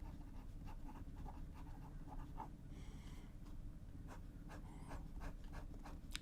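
A Pelikan M215 fountain pen with a medium nib and Waterman Serenity Blue ink writes on Rhodia paper, a soft, steady run of quiet nib scratches and strokes, close and faint, with no talking.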